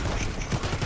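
Gunfire rattles continuously during a Warface firefight against hornet drones, a dense, loud stream of shots over a short moment.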